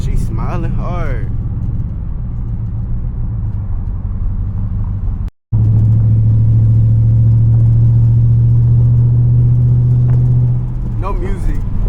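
A steady low engine rumble from inside a moving 600 hp Dodge Charger Scat Pack, with a brief dropout midway and a sustained droning hum afterward.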